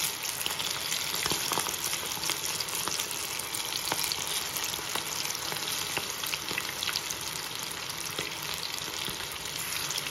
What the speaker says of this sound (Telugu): నాలుగు నిమిషాలన్నా ఫ్రై చేసుకోవాలి బాగా.